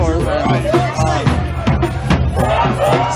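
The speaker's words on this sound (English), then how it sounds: "So there's a huge march going on in Portland, Oregon right now." A huge street march of protesters moves through Portland, Oregon, with the dense, continuous hubbub of many voices rising and blending in a steady, close roar.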